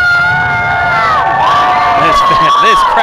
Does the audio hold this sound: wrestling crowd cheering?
yes